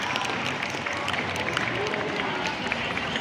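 Students applauding after a school literacy reading in a junior high classroom, a dense, steady patter of many hands clapping at moderate loudness without pause.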